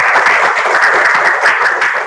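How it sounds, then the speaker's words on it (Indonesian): A school classroom audience of students bursts into dense, steady applause, loud and close throughout, ending abruptly after about two seconds. "Oke, tepuk tangan dulu."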